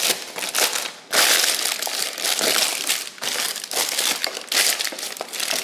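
Parchment paper crinkles and crunches steadily while being pressed into an 8x8 baking pan, with loud bursts of rustling and brief pauses, close and alone with no talk.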